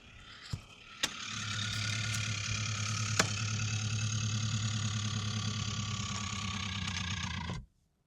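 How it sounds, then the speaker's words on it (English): An electric motor in a Lucid Gravity car whirs loudly and unevenly for about seven seconds after a few clicks, a strained, buzzing drone that sounds unhealthy before cutting off abruptly. "That is not a healthy sounding motor to me."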